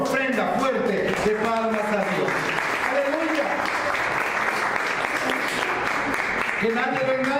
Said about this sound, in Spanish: Den una ofrenda fuerte de palmas a Dios